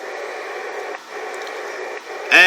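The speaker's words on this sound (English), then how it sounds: "I have QRN now, so I just need to make sure that I have the highest noise on the band." Atmospheric QRN static hisses on the 14 MHz amateur band through a Collins KWM-2A receiver, a steady loud rushing noise with brief dips, ending in a sudden brighter burst of crackle.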